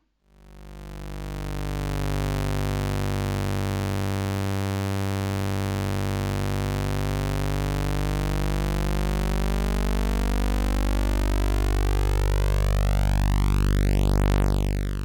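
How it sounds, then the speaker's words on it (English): Two buzzy sawtooth tones from Cherry Audio stock synth oscillators sounding together, slowly drifting in and out of phase so the timbre sweeps and swirls continuously, steady and loud throughout. "the sound of two Cherry Audio stock oscillators, both in sawtooth waves"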